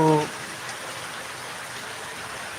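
Heavy rain hisses steadily and evenly after a brief voice at the very start, a dense continuous wash of falling water.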